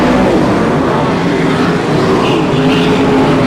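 Race cars roar past on a dirt track at a Budweiser Racing Series dirt track nationals event in Bakersfield, California, a dense, loud engine drone holding steady throughout with no talk.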